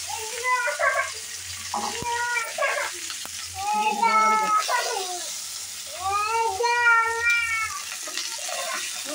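Coriander and paneer fry in a little oil in a home kitchen with a soft, steady sizzle. A cat meows repeatedly and loudly over it.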